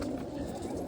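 A male Phulsara highflying pigeon coos in a low, steady murmur that runs through the whole second, close by and fairly quiet.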